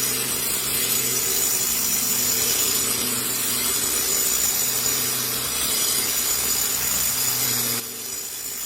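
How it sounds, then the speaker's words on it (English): An angle grinder fitted with a cut disc grinds down and flattens a stone surface, giving a steady, continuous abrasive rasp with a constant motor hum that carries on without a break and drops slightly near the end. "You can see how easily the cut disc is flattening the stone off."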